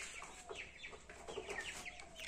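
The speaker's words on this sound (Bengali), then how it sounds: "আজকে আমি আমার ব্রাহ্মা মুরগি দেখাবো এবং বাচ্চা দেখাবো" Brahma hens and their chicks make soft clucks and high peeping chirps close by. The calls are faint, repeated and overlapping, with no talking.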